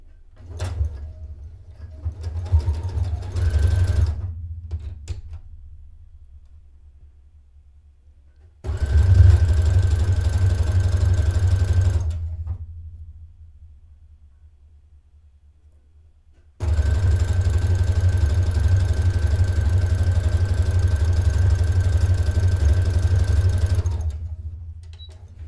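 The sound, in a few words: sewing machine stitching lace onto a dress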